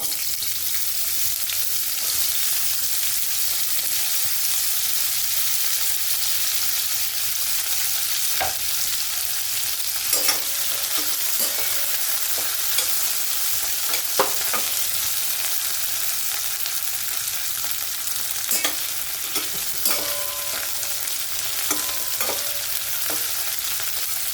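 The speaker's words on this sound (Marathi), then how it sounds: "आता फ्लॉवर टाकून घेते" Cauliflower florets sizzle steadily in hot oil in a pan for a spicy hotel-style mixed vegetable curry, with occasional sharp clinks and scrapes of a spoon stirring, close and continuous without any talk.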